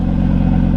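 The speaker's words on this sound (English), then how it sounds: "just idling in the RS performance mode has a much deeper tone" An Audi RS3 with a modified exhaust and fiberglass pack muffler idles in RS performance mode, a steady, deep, close-up rumble with no other sounds.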